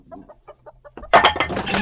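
Chickens cluck in a quick series of soft, close calls, followed by a louder, busier burst of flapping and squawking.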